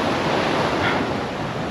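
Ocean surf rolls onto a beach where people are swimming: a steady, loud wash of broadband noise with some wind, continuous and without talk.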